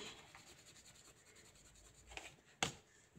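A pen crosses out an entry on paper during budget planning, with soft scratchy strokes at a faint level and a sharper tap near the end, no talking.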